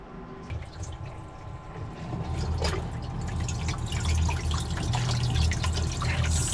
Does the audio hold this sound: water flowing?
yes